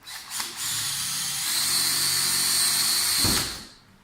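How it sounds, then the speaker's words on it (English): A power drill whirs steadily for a few seconds while pre-drilling into a hollow-core door, its motor spinning up, holding a high whine, then winding down near the end. "it's always a good idea to pre-drill stuff"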